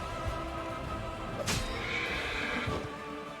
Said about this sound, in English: Bunch of undead horses.